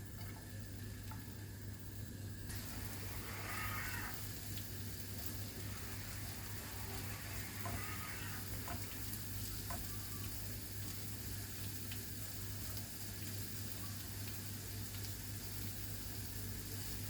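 Onion frying in a pot for Persian lentil pilaf, a steady, soft sizzle running evenly throughout with a few faint ticks and clinks.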